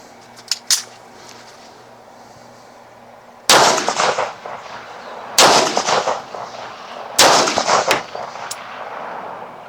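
Three loud pistol shots ring out at an outdoor range, fired from handguns such as Berettas, Jerichos and a Sig P228, each sharp crack followed by a rattling echo, spaced a couple of seconds apart after a faint click.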